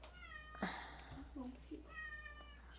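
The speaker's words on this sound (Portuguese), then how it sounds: "Olha a minha gata aqui, né? Ela tá, ela tá fazendo pergunta aqui para mim." Cat meowing indoors, a few soft drawn-out meows and short chirps at a low level, with someone talking quietly around them.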